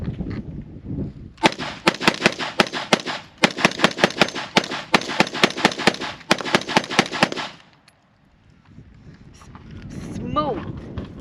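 Rapid semi-automatic shots from a Springfield Hellion rifle crack out in a long, fast string, close and loud, with a short pause partway through before the firing stops and a faint voice follows at the end.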